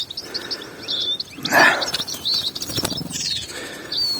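Two tits chirp and tweet in quick, high bursts, with a brief flutter of wings partway through; the calls come from close by over a quiet background.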